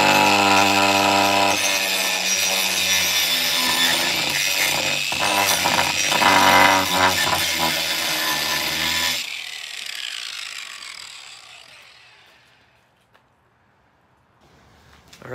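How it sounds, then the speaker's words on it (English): A grinder fitted with a flat grinding wheel runs with a loud, sustained whine and abrasive rasp, then cuts off abruptly and spins down into a long, fading wind-down hum. "So I have the flat grinding wheel here on my grinder."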